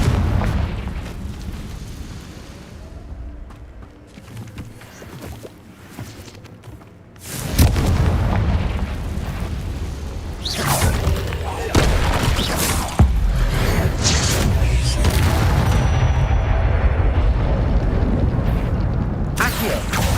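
Confringo spell explosions in the Hogwarts Legacy video game, loud booming blasts that erupt midway and roll on into a dense, continuous barrage of bursts and rumbles.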